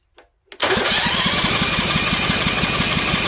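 A Vanguard 18hp engine's starter cranks hard after a brief near-silent pause, giving a loud, steady, rhythmic chugging that runs without a break to the end.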